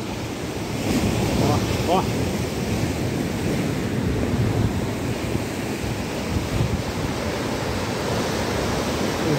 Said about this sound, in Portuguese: aqui a pouco vem a onda com tudo aqui